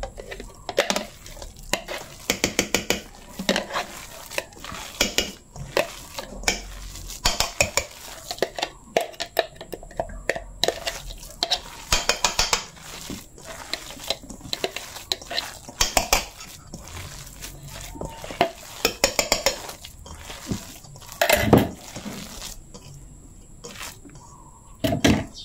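Veggie balls mixture of vegetables, onion and garlic stirred in a pot, with steady close scraping and sloshing strokes and occasional utensil knocks against the rim over about twenty-five seconds, with no talking.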